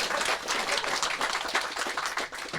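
An audience at a book talk with union activists breaks into steady, dense applause, a continuous crackle of many hands clapping at moderate volume with no talk over it.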